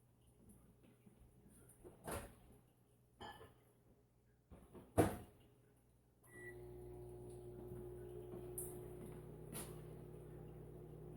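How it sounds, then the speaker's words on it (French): A microwave oven cooks a muffin for one minute: door and button clunks come first, then a steady low hum with a fan whir runs on to the end, close and fairly quiet. "on va le faire cuire pendant 1 minute au micro-ondes"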